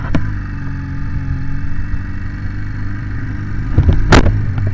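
Exhaust and engine drone steadily from a motorcycle being ridden, picked up close by an Eken H5S Plus action camera, with a sharp brief rustle near the end.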